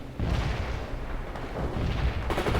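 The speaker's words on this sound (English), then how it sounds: "Mortars will fire at the provided coordinates" Mortar artillery in the game World in Conflict fires in a steady barrage of deep, rumbling booms, loud and sustained, with a sharper crack near the end.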